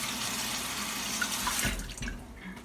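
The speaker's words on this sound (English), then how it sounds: "Then I'm gonna rinse it out real quick." Tap water running into a sink to rinse a cabbage, a steady hissing splash that continues throughout, with a brief deeper splash near the end.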